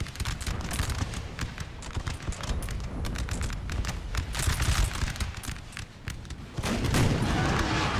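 Artillery and musket fire in the Napoleon: Total War video game, dense crackling volleys and booms overlapping continuously, with a louder burst near the end.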